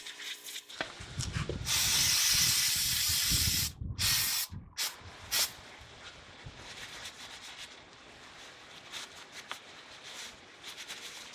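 Bursts of compressed air hiss loudly for a few seconds while blowing off a car's door hinge parts, then cut off, followed by several shorter blasts and quieter scattered noise.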